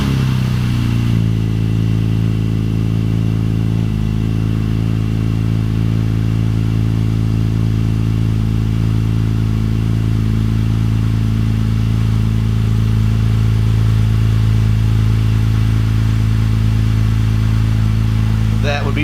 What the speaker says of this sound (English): That would be the cold start.